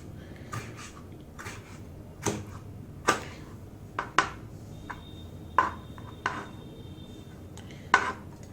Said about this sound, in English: I have taken one tomato, just chop it.